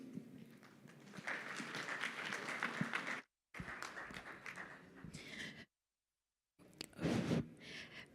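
A conference audience at a regulatory summit claps faintly, a thin patter of applause broken by brief silent gaps.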